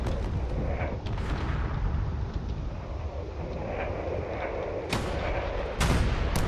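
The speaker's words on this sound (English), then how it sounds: "Still a lot of cannon fire coming in." Heavy cannon fire rumbles continuously in a desert battle in the video game Drone Wars, a dense low roar with scattered impacts and two sharp, loud blasts near the end.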